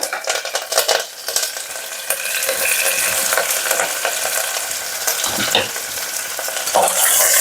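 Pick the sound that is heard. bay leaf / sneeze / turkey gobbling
bay leaf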